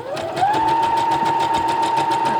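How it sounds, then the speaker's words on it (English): A sewing machine stitching a sock to make tights for an 18-inch doll, a loud continuous rapid rattle as the motor ramps up to a steady whine, close and alone. "you're going to stitch all the way down to the bottom of the sock, where the toes will be"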